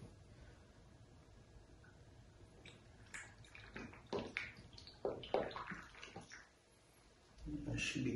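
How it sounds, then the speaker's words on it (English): Tubeless tire sealant poured into a mountain bike tire, a quiet series of wet glugs, squishes and drips close by, ending in a louder rustling handling noise. "we're going to add about 3 to 4 ounces of sealant"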